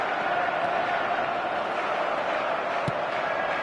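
A stadium crowd roars in a football video game, a broad, steady wash of cheering and crowd noise that holds throughout at moderate loudness.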